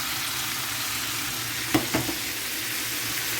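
Pork and leafy vegetables sizzle steadily in a hot pan as a stir-fry cooks, a constant frying hiss with a couple of brief clicks of stirring partway through, no one speaking.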